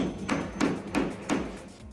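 Four evenly spaced hammer blows drive a deck bolt into pontoon deck boards in a steady rhythm, close and solid, with no talking.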